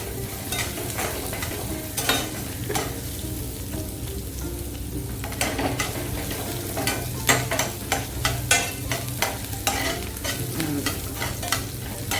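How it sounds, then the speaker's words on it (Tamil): Chana dal and onions sauté in a pan, a continuous sizzle with repeated spatula scrapes and stirs that quicken into a rhythmic run in the second half, close and alone, with no talking. "கடலைப்பருப்பும் வெங்காயம் நல்லா வதங்கணும்."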